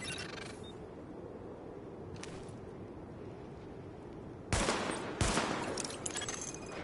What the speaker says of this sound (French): Lancement du test de l'armement. Tirez sur les cibles en surbrillance.